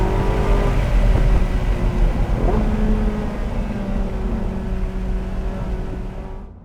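A Porsche 918 Spyder driven hard through corners, its engine holding a loud, steady drone with rising and falling tones as it pulls, heard from inside the car.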